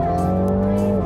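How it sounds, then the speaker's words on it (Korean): A 2022 Mini Countryman JCW in sport mode pulls hard, its engine note climbing steadily and loudly for a brief moment, close and unbroken. "스포츠 모드에서 급가속을 해보면요."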